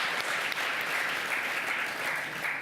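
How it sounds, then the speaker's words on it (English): An audience at the 2018 Environmental Media Awards claps steadily in a dense, sustained burst of applause, fairly loud and without any talking. "let's give her a round of applause for that iconic woman"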